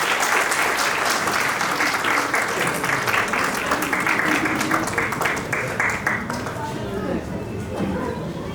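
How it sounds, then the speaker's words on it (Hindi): An audience at a play school annual day claps in sustained, even applause at moderate distance, with scattered voices and chatter mixed beneath the clapping. "तालियां बजाइए जोर से बच्चों के लिए।"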